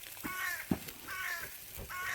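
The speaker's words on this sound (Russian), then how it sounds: "И ворона выпрашивает кусочек." A crow caws three times in a steady rhythm, loud and close, begging for a piece of food outdoors in April snow.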